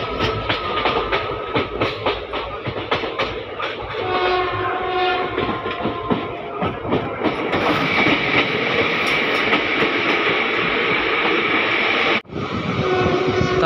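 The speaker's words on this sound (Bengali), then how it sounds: "আমাদের ট্রেন আসলো রামপুরহাট স্টেশনের তিন নম্বর প্ল্যাটফর্মে" A train rumbles and clatters in to platform three at Rampurhat station, its horn sounding loudly over the rolling wheels and carriage noise, steady and close throughout.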